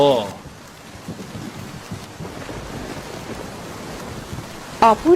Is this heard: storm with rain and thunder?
yes